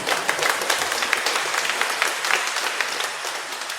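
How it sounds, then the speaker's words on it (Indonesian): Wedding guests break into steady applause during the ceremony, a dense, even patter of many hands clapping close and loud throughout, with no voices standing out. "Ayo kita semua tepuk tangan."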